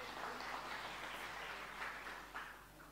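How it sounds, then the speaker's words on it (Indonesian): Congregation at a church sermon applauding, a continuous wash of many hands clapping at moderate distance with no voices over it. "Tepuk tangan yang meriah buat kita."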